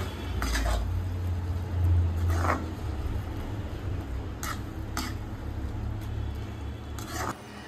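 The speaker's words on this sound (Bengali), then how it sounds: "এটা দিয়েও ভালোভাবে নাড়িয়ে নিচ্ছি।" A spoon stirring shapla (water lily stem) ghonto with mustard-poppy paste in a pan, with scattered scraping clinks over a low steady hum and faint background noise.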